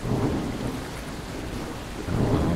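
A thunderstorm in the survival game Arctic Anxiety rolls with deep rumbling thunder and steady rain hiss, loud and continuous, swelling at the start and again near the end.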